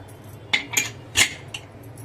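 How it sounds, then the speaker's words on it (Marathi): Metal lid being fitted onto a pressure cooker holding pulses, four distinct clanks and clinks spaced unevenly over a quiet background. "झाकण लावूया"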